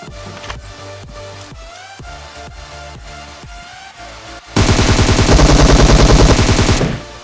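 Automatic gunfire in the PUBG Mobile video game, with steady rapid shots at first, then a loud, dense sustained burst of fire for about two seconds before it cuts off.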